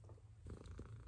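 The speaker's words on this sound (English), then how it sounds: "You purr so loud" A cat purrs softly and close, a low rumbling pulse that swells slightly partway through, with no talk over it.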